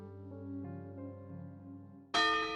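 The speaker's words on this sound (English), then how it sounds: "A bell chimed, sounding the closing of the park and drowning out my words." A bell chimes to signal the park closing in an amusement park game, a sustained resonant tone ringing alone before a bright, sharper chime strikes near the end.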